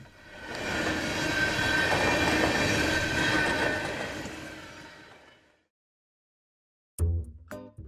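A freight train rumbles past close by in Winnipeg with a broad, steady roar and rattling wheels, then fades out, followed by silence and a few brief knocks.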